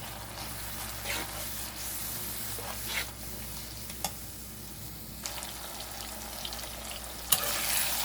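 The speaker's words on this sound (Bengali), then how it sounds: "আমি মশলাটা ভালো করে একটু ভুনে নেব নেড়ে চেড়ে।" Spices frying in oil in a pan, a steady close hiss and crackle with occasional light clicks and scrapes from stirring, ending in a slightly louder clatter.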